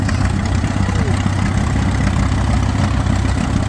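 An old McCormick-Deering Farmall F20 tractor idles at an outdoor show, a steady, loud, low rumbling chug that keeps an even pulse throughout, with no voices over it.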